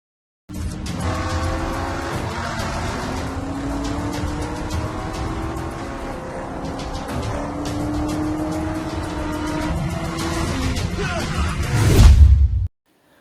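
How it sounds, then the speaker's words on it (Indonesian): A BMW E39 M5 and a Volkswagen MK7 race on a street, their engines straining in a sustained, rising roar. The noise builds to a sudden heavy, loud burst near the end before cutting off. "Ejai tak sengaja melihat 2 mobil lagi balapan, yaitu BMW E39 M5 dan VW Clover MK7"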